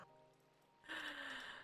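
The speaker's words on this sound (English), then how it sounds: "Time to run back in the rain, boys." Minecraft rain begins abruptly as a steady, even hiss of falling drops that holds at a constant level for under a second before tapering. No one speaks.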